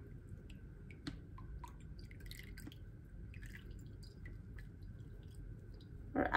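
Liquid drips softly from egg semolina curds resting in a strainer, scattered faint drops over a low background hum, ending with a brief louder rustle.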